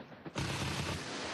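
A 23 mm anti-aircraft gun fires high-explosive rounds during a military exercise, a sudden loud burst of sustained gunfire that erupts after a quiet moment and keeps roaring dense and close with no voices.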